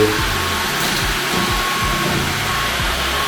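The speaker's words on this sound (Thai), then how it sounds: "สามารถดูดฝุ่นอนุภาคเบาๆได้อย่างง่ายดายมากแม้กระทั่งเป็นแค่ระดับกลางนะครับ" A Samsung Bespoke Jet cordless vacuum cleaner running on medium power gives a steady, loud whirring hum and airy rush, holding constant throughout with slight pitch wobbles and no talking.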